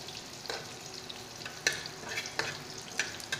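Egg sautéing in a frying pan gives a steady soft sizzle, with a few sharp clinks of a utensil against the pan breaking through at intervals.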